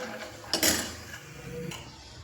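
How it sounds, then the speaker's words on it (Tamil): A ladle stirs thick urad dal porridge in a pot, giving a few soft scraping, clinking strokes against the metal, one louder knock near the start, over a quiet background with no talk. "இப்படி தான் கிண்டணும்"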